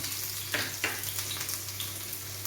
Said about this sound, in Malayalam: കടുക് പൊട്ടി നമുക്ക് ഉള്ളിട്ട് കൊടുക്കാം.